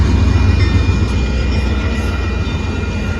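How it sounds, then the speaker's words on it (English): Southbound Amtrak Texas Eagle train 21 passing a road crossing in Austin, Texas: a loud, steady low rumble and roar close by, sustained throughout without any voices. "Here comes Amtrak. There goes Amtrak."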